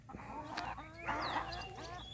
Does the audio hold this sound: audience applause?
no